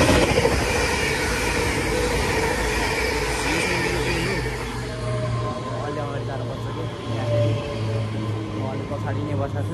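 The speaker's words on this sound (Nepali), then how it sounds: "ओ माई गॉड, एकैचोटि दुईवटा ट्रेन आयो कि" Trains moving through a railway station in the UK, with a steady rumble and a rising hum, and a low engine drone in the second half. People talk over the sound throughout.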